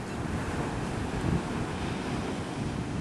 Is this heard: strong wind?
yes